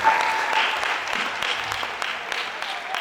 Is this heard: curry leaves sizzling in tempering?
no